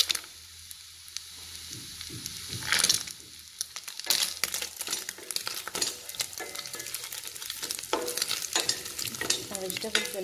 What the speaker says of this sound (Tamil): இப்போ எக்கு நல்லா இப்படி கிளறி விட்டுக்கோங்க